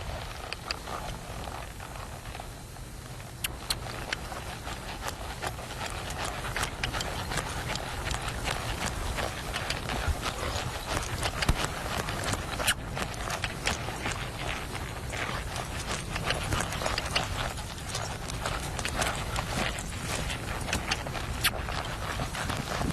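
A horse performs in a competition arena, with hooves clip-clopping and thudding in a fast, steady rhythm against a constant noisy background that stays loud the whole time.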